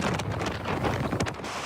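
Strong wind buffets the Dune du Pilat in Gironde, a loud, roaring gusty rush battering the microphone with no voices.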